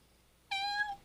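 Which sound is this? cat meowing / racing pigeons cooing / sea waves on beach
cat meowing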